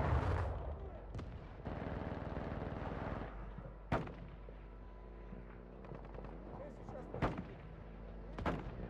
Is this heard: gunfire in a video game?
yes